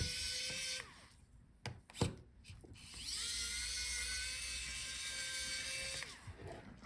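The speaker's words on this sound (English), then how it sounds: "So let's unscrew our hinges." A small screwdriver works the hinge screws on a Dell Inspiron 5402 laptop, with quiet ratcheting clicks and squeaky turning in short bursts, a few sharp taps between, faint and close.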